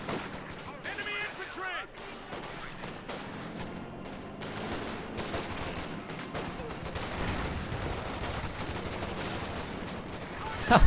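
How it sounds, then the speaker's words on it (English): Battle sounds from Company of Heroes 2, WWII real-time strategy match: scattered gunfire volleys and thuds including a grenade blast, fairly faint and continuous under a caster's talk. "That was a serious grenade there"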